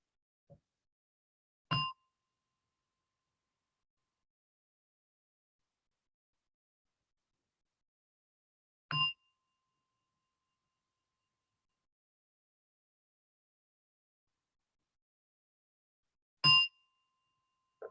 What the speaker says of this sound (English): as you hear a gong, at the third gong, slowly open your eyes and come out from meditation